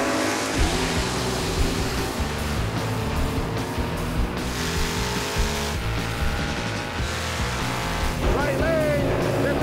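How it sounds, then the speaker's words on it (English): Chevy and Ford drag cars doing burnouts at Maple Grove Raceway, a loud sustained engine roar with revving pulses and tire noise, while a voice talks over it. "Let's see the burnout, boys."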